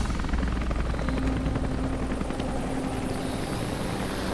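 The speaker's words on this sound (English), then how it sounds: "The choppers!" Helicopters in the video game Rise of the Tomb Raider make a loud, steady rotor roar with continuous thudding blade chop that runs through the whole stretch.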